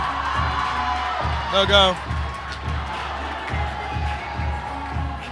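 Crowd noise at a 2014 high school boys basketball game against Hillcrest, a steady roar with a brief swell of cheering and whoops, mixed under continuous commentary and the thump of a bouncing ball.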